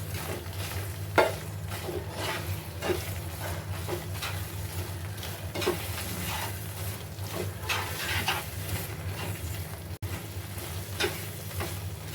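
Amrut Pak barfi mixture thickens in a pan while it is stirred steadily. Repeated soft scraping strokes come at a regular pace over a low, bubbling sizzle, close and moderate in level, with no talking.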